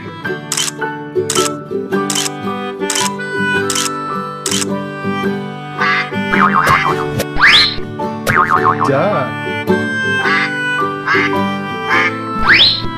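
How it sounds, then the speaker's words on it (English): A toy duck from a kids' zoo and sea animal octopus toy set quacks a few times over cheerful music, with bouncy boing-like effects around it. "Duck."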